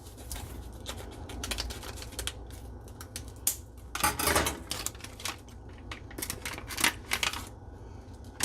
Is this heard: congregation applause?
no